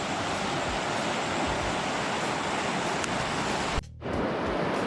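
Steady rushing flow of the Gagas river, a clear mountain river in a village setting, heard as a continuous broad wash of water close by with a brief dip near the end.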